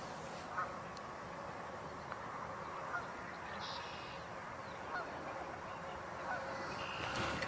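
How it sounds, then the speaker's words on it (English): A male mallard duck calls with a few short quacks, faint and somewhat distant over an outdoor marsh background. "I think I hear a mallard. Sounds like a male."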